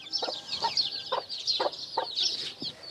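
Aseel-breed chicks and mixed chicken breeds in a coop, with steady high chirping and short clucks from nearby birds repeating every half second or so, no talk.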